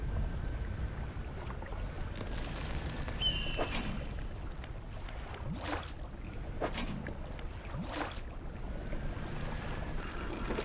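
A small fishing boat in the video game DREDGE moving across open water, with a steady low engine and water wash beneath a few brief splashing and creaking effects, and no voices present.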